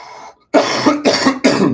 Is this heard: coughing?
yes